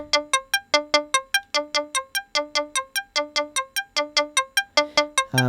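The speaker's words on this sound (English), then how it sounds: "now we've got the complex oscillator running through both gates, and you can hear this double filtering effect" A rapid stream of plucky synth notes from a Buchla modular synthesizer, a complex oscillator double-gated through two filters, pulses in a steady even rhythm, each tone snapping open and decaying quickly, with no voices.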